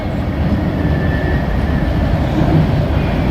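A very long freight train rolls past close by, producing a steady, loud low rumble of wheels and cars with faint squeals, continuing without a break.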